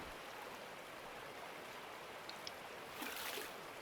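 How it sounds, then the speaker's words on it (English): Muddy water running out in a steady, faint gush of broadband noise, constant throughout, with a few small splashes and a slightly louder surge near the end. "But you can, as you can see, the mucky water coming out."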